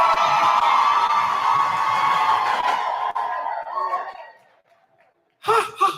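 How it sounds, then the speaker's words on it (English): A workshop audience gives a loud group round of applause and cheering that holds steady for about four seconds, then fades out into near silence before brief voices return. "I want to hear your version of good energy and a healthy round of applause"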